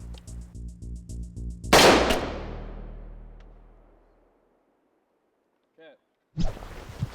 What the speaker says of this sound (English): So, we just shot this with an FMJ from an AR-223.